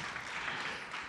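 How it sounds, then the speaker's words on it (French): An audience, mostly men, applauds at a Pierre Perret show, a faint but steady spread of clapping that continues without a break through the short moment. "Là, j'entends que des applaudissements de mecs."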